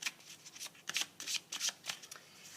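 Tarot cards being shuffled by hand, a quick series of soft papery riffles and slaps in an uneven rhythm, close and fairly quiet with no talking.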